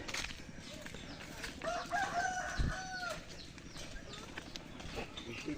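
A rooster crows in the middle distance, its call rising and falling over a steady background of outdoor noise and faint clucking.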